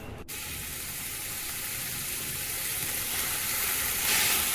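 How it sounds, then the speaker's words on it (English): Ginger, garlic and curry leaves sauteing in a pan for an egg curry give a steady, close, broadband sizzle that runs without a break and swells slightly near the end. No voices are heard. "saute it till the raw smell of the ginger and garlic goes"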